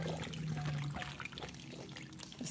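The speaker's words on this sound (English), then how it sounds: "Me pouring in the other chicken broth." Chicken broth is poured into a cooking pot for homemade chicken noodle soup, a steady liquid splashing and gurgling for a couple of seconds with a few clinks at the end.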